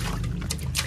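Large filled water balloons drip water, giving a quick burst of soft liquid splashes and trickles over a low steady hum, close and moderately loud for under a second.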